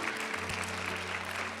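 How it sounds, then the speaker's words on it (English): Audience applause at a live talk or sermon-style speaking event, steady clapping throughout at moderate level with no speech over it. "You can clap for that, right?"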